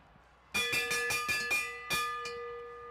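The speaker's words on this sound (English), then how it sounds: "Here comes the bell." A bell rings out several quick, resonant strikes signalling the final laps of an e-bike pacer race, loud and close with a sustained metallic ring that lingers and decays after the last hits.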